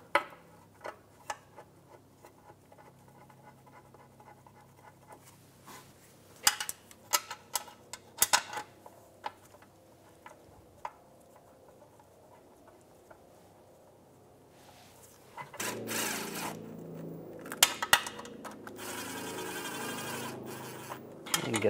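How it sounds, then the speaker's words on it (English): Bolts are threaded into a Volkswagen Beetle oil pan, giving sparse faint metallic ticks and clicks at irregular intervals, followed by a louder stretch of handling noise toward the end. "Get a couple bolts started."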